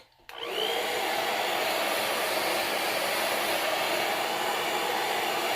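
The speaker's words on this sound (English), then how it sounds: "when you're using a blow dryer, you can use the warm setting on your surface" A blow dryer on its warm setting switches on and blows a steady, loud whooshing hum that holds unchanged for several seconds, close by and with no voices.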